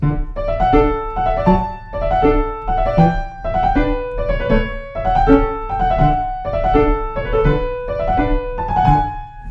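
A piano plays repeated groups of one held note followed by three quick ones, a steady galloping rhythm with no voices.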